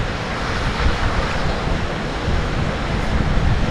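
Strong wind blows by the sea under overcast, threatening skies, a steady broadband roar with rolling surf underneath that holds level and close for the whole stretch, with no voices.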